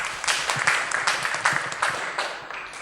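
Parish audience clapping for a participant after a talk on God's mercy, a short, moderately loud burst of overlapping handclaps that stays steady, then thins slightly.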